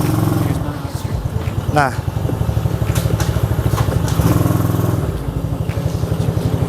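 Engine of an ATV 125 diesel automatic quad running steadily during a test drive, a continuous close-up chugging drone that rises briefly in pitch midway, with someone talking over it.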